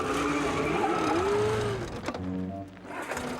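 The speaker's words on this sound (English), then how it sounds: "Now, you wouldn't want a race car that can almost race" A race car engine screams and revs up, rising in pitch under a roaring crowd, then cuts off abruptly and gives way to quieter tones.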